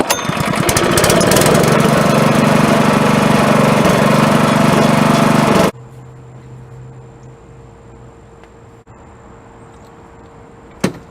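A Honda small engine, running again after its carburetor bowls were cleaned, roars loud and steady for about six seconds and then cuts off abruptly into a quiet hum.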